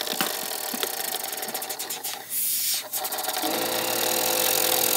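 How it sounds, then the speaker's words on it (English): An air compressor runs with a steady mechanical drone and buzzing, close and loud, with a brief dip and surge midway and a rattling, spinning whir layered over it. "Turn on the air compressor."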